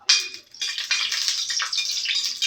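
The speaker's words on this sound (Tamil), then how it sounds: "பெருங்காயம் இப்போ போட்டு பொரிச்சுக்கிறோம்." Asafoetida spluttering in hot oil in a pan while tempering spices for a mango pickle, a steady bright sizzle with small crackles running throughout.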